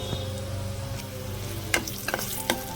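Garlic and dried red chilies frying in a pan with a soft steady sizzle underneath a few sharp clinks and scrapes of stirring.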